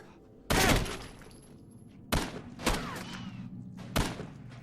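Four loud, separate gunshots in the video game Condemned 2: Bloodshot, each a sharp close crack with a short decaying tail, spaced irregularly over a quiet background.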